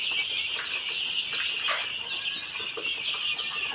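Twelve-day-old Kadaknath chicks give a continuous chorus of high, thin peeping, many birds cheeping at once at moderate volume with no pauses.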